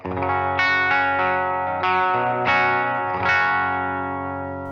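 Electric guitar with Gibson '50s wiring and the tone knob rolled back to 4, strumming about five chords with fresh attacks every half second or so, heavily processed with effects, ringing out loud and sustained with no voices.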